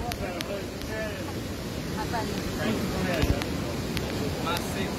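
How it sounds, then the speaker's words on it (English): Ouzoud waterfall in Morocco gives a steady, broad roaring rush of falling water that fills the whole clip, with voices talking over it now and then. "Soon found the waterfall again."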